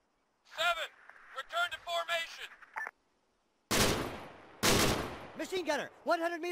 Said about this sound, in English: Machine gunner, 100 meters, front!